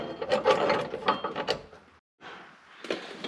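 Ratchet wrench tightening a bolt on a Chevrolet Silverado running board bracket, close rapid clicking bursts with a brief pause before the ratcheting resumes.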